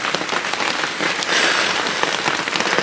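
Rain falls steadily during a mountain hike on Gunung Sumbing via Garung, a dense, close patter of drops hitting surfaces that holds evenly loud throughout with no voices.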